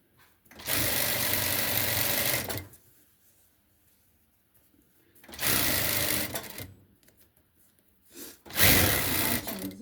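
A domestic sewing machine stitches a nursing pillow in three close, steady bursts of rapid whirring, separated by short quiet pauses. The last burst is brief.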